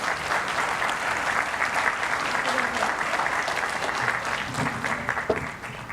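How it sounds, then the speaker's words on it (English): Audience clapping steadily for the grandchildren who led the Pledge of Allegiance at a Martin High School tennis courts dedication ceremony, dense applause lasting about six seconds. "A round of applause for them."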